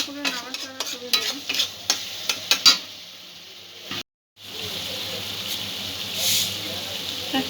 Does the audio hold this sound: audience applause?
no